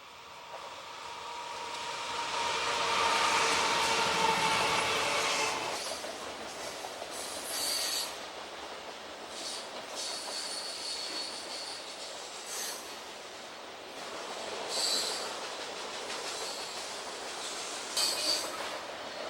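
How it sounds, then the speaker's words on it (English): A southbound CSX grain train, symbol G553, rolling past near Kelly, Kentucky: a steady broad roar of freight cars with rumbling wheels and occasional high metallic squeals, loud and continuous throughout. "followed by a southbound grain train symbol G553"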